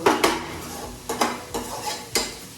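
A metal lid is set onto a pot of village-style chicken curry, giving a few sharp close clinks and clatters of metal against metal, spaced irregularly over a quiet background.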